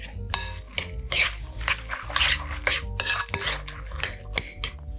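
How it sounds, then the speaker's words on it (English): Macaroni salad dressing being mixed into chopped vegetables in a bowl, with repeated clinks and scrapes of a utensil against the dish, close and fairly loud, steady stirring throughout with no talking. "let's take our dressing and we'll add it to our veggies. And we'll give this a mix"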